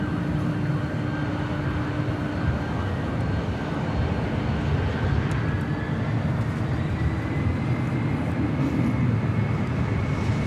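Virgin Atlantic Airbus A350-1000 jet departing LAX, a steady loud engine roar with a slowly rising whine, continuous and close throughout, no talk.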